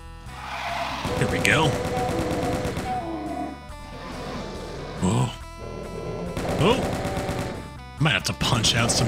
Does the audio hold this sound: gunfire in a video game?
yes